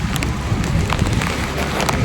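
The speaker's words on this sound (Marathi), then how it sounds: "आज तर जामच जोरात पाऊस पडतोय" Heavy rain pours down steadily on the way to Malang Gad, a dense, loud, close hiss of drops pattering on surfaces with no break and no voices.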